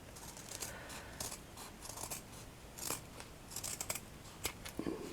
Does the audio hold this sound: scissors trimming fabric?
yes